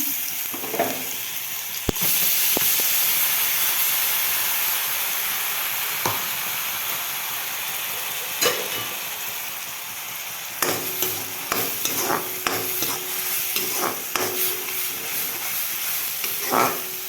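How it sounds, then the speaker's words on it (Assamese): Ginger-garlic paste hits hot mustard oil in a pan with a loud, sudden sizzle that settles into steady frying hiss, close by, with clicks of stirring later on and no talking. "মই এতিয়া তেলখিনি গৰম হোৱাত ইয়াতে আদা, নহৰু পেষ্টখিনি মই ইয়াতে দি দিম প্ৰথম।"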